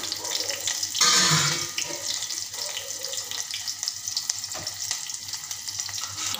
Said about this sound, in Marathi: तर मी आता कांदा सोडणार आहे।